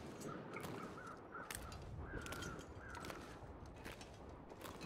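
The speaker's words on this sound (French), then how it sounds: "Donc j'entends les corbeaux." Crows caw several times across a snowy outdoor setting in the survival game The Long Dark, the calls moderately distant over a steady wind-like ambient bed, with no talking.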